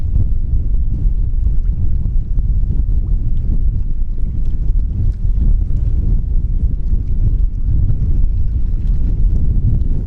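Stormy wind at a radio-controlled Laser sailboat race, a constant heavy roar and low buffeting on the microphone, loud and unbroken throughout, with no talking.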